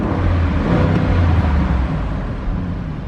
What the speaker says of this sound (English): you do have a 500 horsepower twin-turbo V8